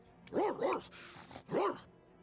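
A dog barking in the video game Tales of Vesperia, with two quick close barks, a short pause and then a third bark, clear over quiet game background.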